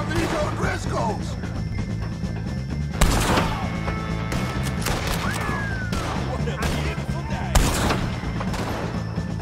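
A gunfight with O'Driscoll gang members in Red Dead Redemption 2, with rapid bursts of gunshots throughout and two louder blasts standing out, mixed with shouting voices.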